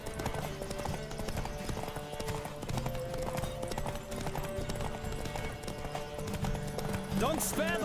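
Hooves pound steadily from a galloping horse racing in The Witcher 3, a continuous loud clatter with game music beneath and a voice calling out near the end.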